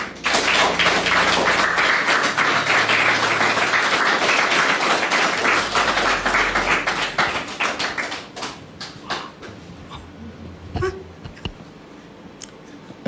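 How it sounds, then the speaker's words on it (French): A French television studio audience claps for an arriving guest, loud dense applause that thins into scattered claps and a few taps and thuds before dying away. "Merci de la recevoir avec vos applaudissements,"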